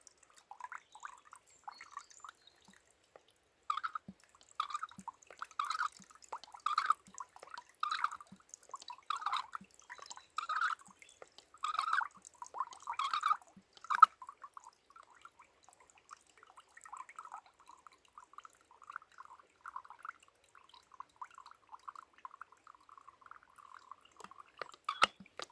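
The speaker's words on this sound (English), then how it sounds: "we are going to put some more water in" Water poured into a pot at a mountain stealth campsite, heard as a run of evenly spaced splashy drips that fade into a softer, irregular trickle, faint and close with no talk.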